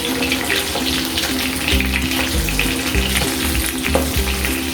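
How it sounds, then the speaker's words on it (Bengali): Fish frying well and crisp in a pan of oil sends up a steady, close, loud sizzle with faint bubbling and crackle throughout, and no voices. "মাছটা ভালো করে ভাজা হয়ে গেছে"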